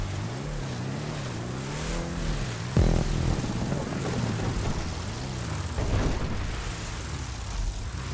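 A vehicle engine starts and runs in GTA V, a loud droning motor rising and falling in pitch with a thump partway through, steady and close for several seconds.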